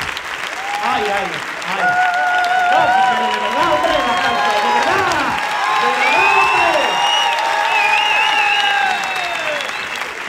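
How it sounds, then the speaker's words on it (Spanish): A studio audience at a Spanish comedy talk show bursts into loud, sustained applause mixed with crowd noise, and a voice talks and exclaims over it throughout. "Señores, señores, fuerte aplauso para los campos del programa."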